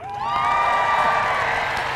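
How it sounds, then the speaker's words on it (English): A graduating class of 2022 cheers and whoops at a graduation ceremony, a loud sustained burst of crowd voices rising quickly and holding, with clapping mixed in. "every time I say class of 2022, I want you guys to make some noise for a quick second"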